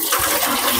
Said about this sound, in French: Voilà l'eau qui vient de sortir